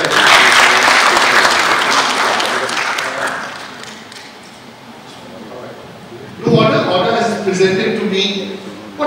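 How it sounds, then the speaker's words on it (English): Audience applause at a business leader of the year awards ceremony in New Delhi, loud sustained clapping that gradually dies away before a speaker's voice resumes over the room. "Big round of applause for us."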